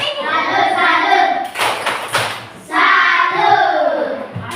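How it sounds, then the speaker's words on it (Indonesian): A classroom of children performs a rhythmic salute clap, sharp hand claps in short bursts mixed with loud group chanting voices, close and lively. "Tepuk salut untuk kita semua."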